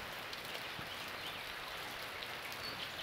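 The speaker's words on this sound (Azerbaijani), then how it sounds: "Yağan yağışın suyu birbaş axır kökünə" Rain falling outdoors, a constant even hiss of drops spattering on surfaces, with a few sharper nearby drips standing out against the steady patter.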